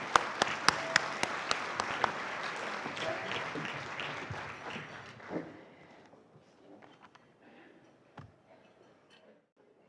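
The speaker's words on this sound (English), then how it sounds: "Give her a round of applause." A breakfast event audience gives a round of applause as a charity's executive director comes to the stage, fairly soft, spread-out clapping with a few sharp claps, thinning out after about five seconds to scattered taps and room noise.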